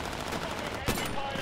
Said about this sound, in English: this guy's actually shooting at me